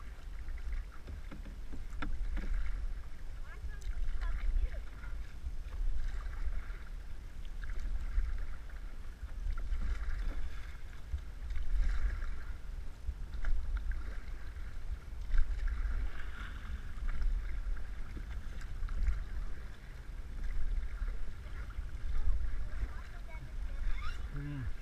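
A small boat being paddled, with low rumbling water and soft splashes of paddle strokes continuing throughout, people talking faintly in the background.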